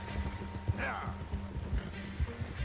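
Horse hooves pound in a steady galloping rhythm in the video game Red Dead Redemption 2, loud and close, with a brief whinny-like cry partway through.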